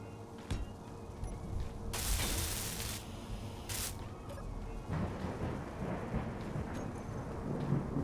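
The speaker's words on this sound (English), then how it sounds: "Yep, the thunderstorm started up now." Thunderstorm in the video game Space Engineers, with steady rain hissing throughout and rolling thunder rumbling in the low end, punctuated by a couple of sharper, louder crashes.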